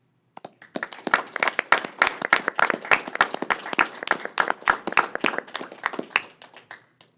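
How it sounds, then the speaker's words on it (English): A small meeting audience claps for a retiring district official, a close, lively patter of individual hands that starts abruptly, holds for several seconds and thins out to a few last claps. "definitely close with a round of applause to your service to this district"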